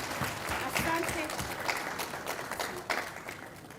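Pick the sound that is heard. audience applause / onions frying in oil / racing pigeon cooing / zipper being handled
audience applause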